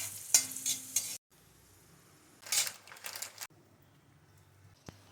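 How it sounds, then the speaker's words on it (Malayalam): Cashews and raisins frying in ghee in a small pan, two bursts of bright sizzling with stirring scrapes and a quiet gap between them, close by. "അവസാനമായിട്ട് നെയ്യൊഴിച്ച് അണ്ടിപ്പരിപ്പും മുന്തിരിയും വറുത്തിടുക."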